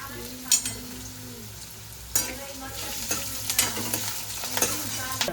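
Potatoes fry in a pan under a constant sizzle, while a spoon scrapes and clatters against the pan in several distinct stirring bursts, close up with no talking.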